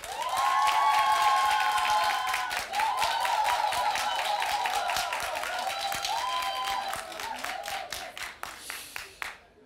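A studio audience at a family music show applauds for a contestant: loud, dense clapping with cheering that holds steady, then thins into scattered, fading claps near the end.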